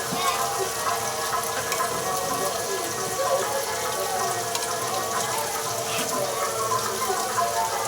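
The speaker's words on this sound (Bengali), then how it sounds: "আর এদিকে পনিরটাও ভাজা হয়ে এসেছে" Paneer fries in a pan with a continuous, moderate sizzling hiss, accompanied by some faint clattering and background noise throughout.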